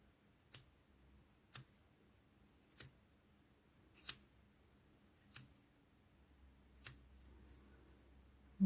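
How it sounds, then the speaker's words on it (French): Scissors snip crochet threads on a small crocheted keychain: seven crisp, isolated clicks spaced about a second apart, close and quiet, with a near-silent background. "Maintenant, ces fils-là, je vais couper comme ceci."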